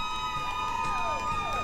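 Colleagues from the drivers' home schools, dressed in matching outfits, cheer for school bus drivers at a driving competition; the crowd noise is steady and moderate, with a tonal, music-like layer running underneath.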